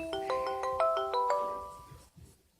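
A phone plays a short melodic ringtone or ringback during an outgoing call, a rising series of bright electronic tones that fades out, followed by a brief click, close and moderately quiet.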